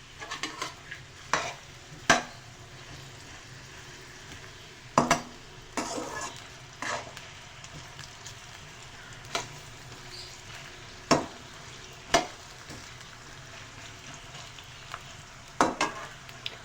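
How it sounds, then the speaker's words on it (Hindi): Onion frying in hot oil in a kadai, with a low steady sizzle broken by repeated sharp clinks and scrapes of a spoon stirring against the metal pan. "सबसे पहले हम ऑयल में प्याज ऐड करेंगे।"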